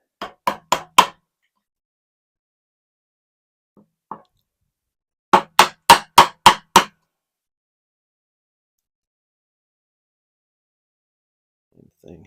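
Hammer blows on a chisel clear waste from wood, with sharp knocking strikes in quick bursts of four and six plus a couple of isolated taps, close and distinct against silence.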